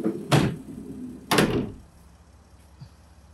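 Two loud rolling, scraping whooshes follow each other about a second apart as the passenger-side sliding door of a 2022 Mercedes-Benz Sprinter cargo van is moved, then a faint click.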